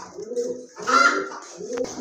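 Large Archangel pigeons coo softly close by in short repeated phrases, with a faint murmur of voices in the background.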